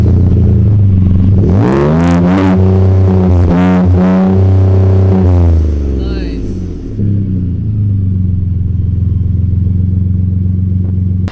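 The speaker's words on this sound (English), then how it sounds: "So with the resonator delete and the MagnaFlow exhaust, it sounds something like this." A twin-turbo 3.5 EcoBoost V6 truck with a resonator delete and MagnaFlow exhaust idles with a deep, loud rumble, then revs sharply twice in quick succession before settling back to a steady close idle.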